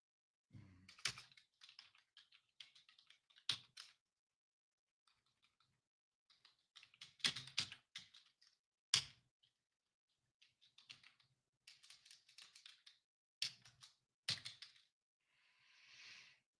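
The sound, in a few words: typing on a keyboard to write a note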